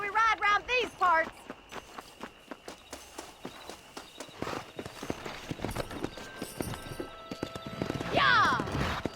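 Horse hooves clip-clopping and galloping in the Western video game Red Dead Redemption, with a loud whinny at the start and another near the end, and voices talking over the rhythmic hoofbeats.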